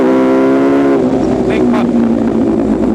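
MV Agusta Brutale 1000 motorcycle engine downshifting on track, a loud high whine that drops sharply with quick blips, the engine note loud and close throughout.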